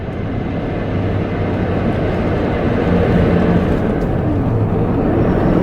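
A supercharged BMW E39 M5 accelerates hard at full throttle, a loud, steady engine roar and road noise heard from inside the car that holds strong and slightly builds over several seconds.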